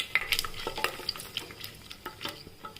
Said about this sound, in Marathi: आता आपण ना बदाम टाकूया, परतून घेऊ छानपैकी